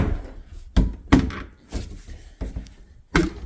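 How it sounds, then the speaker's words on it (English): Double doors to a laundry area, one of them sticking, being pushed shut with a series of hard thuds and knocks, one heavy bang after another, close by in a quiet room. "this one door wants to stick a little, sorry about that"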